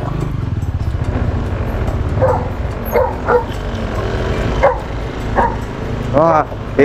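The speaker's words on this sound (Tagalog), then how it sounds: "May aso. May aso." A dog barks and yips in short bursts near a grassy rural spot in Sariaya, Quezon, mixed with people talking and a background engine hum.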